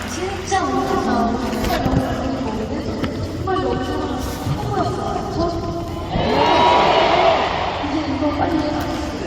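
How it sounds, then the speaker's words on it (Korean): A concert crowd at a singer's 100th concert cheers and applauds for the dancers, with voices and stage sound at first, then a loud surge of cheering swelling midway before easing back. "우리 댄서분들께 다시 한번 박수를 보내주시면 감사하겠습니다."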